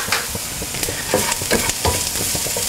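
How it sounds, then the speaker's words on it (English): Onions saute in oil in a frying pan, a steady close sizzle broken by scraping stirs and small clatters of a utensil against the pan, with no talking. "we're going to saute our onions for just 5 or 7 minutes"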